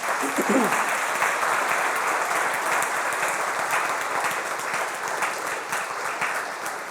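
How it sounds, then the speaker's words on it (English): A retreat audience gives a long, steady round of applause during a fireside chat, many hands clapping loudly and evenly from start to finish. "let's give a first round of applause for Rachel."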